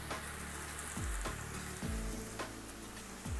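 Kerala-style prawn roast with kudampuli sizzling and frying steadily in a pan as raw coconut oil is added, a close, continuous crackle with a few soft stirring scrapes and no talk.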